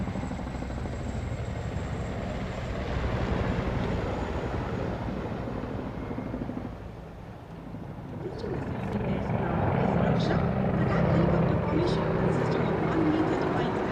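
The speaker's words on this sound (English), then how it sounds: "रक्षक formation, helicopters, 1 मी-35 और 4 Apache helicopters Wick formation में उड़ान भरते हुए" One Mi-35 and four Apache helicopters in vic formation roar past during a Republic Day Indian Air Force flypast, a loud, steady rotor drone that dips briefly and then swells again as more aircraft fly overhead.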